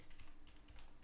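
Fast, steady keystrokes on a computer keyboard tap out a short burst of typing, close and quiet, with no voices.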